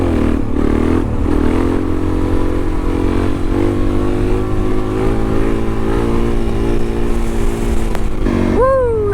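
Suzuki DRZ400 dirt bike engine climbing steadily through second and into third gear on a trail, a loud, close, continuous mid-pitched buzz with rising tone, and a brief whine and voice near the end.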